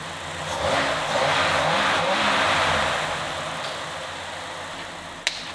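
A 1949 Ford Shoebox with its original flathead V8 runs close by, engine revving up and holding a throaty roar before easing back, with a sharp click near the end.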